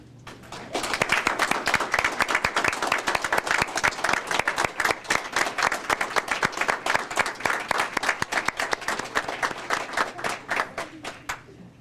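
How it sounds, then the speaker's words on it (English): An awards ceremony audience applauds parents, teachers and guardians, a loud, sustained round of dense clapping from a large crowd that starts after a second and continues steadily for about ten seconds before tapering off. "I would like to now take a moment to acknowledge other people in the room who deserve a big round of applause."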